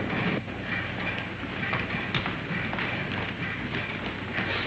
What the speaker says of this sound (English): does this train stop at Nice?